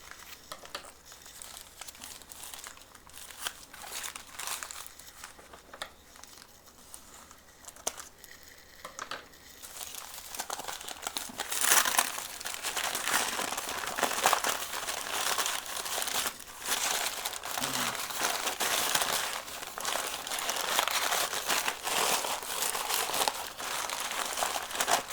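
Crinkling and crumpling of trading card mail packaging as it is handled and opened, close and continuous, with occasional tearing and rustling bursts that grow busier and louder in the second half.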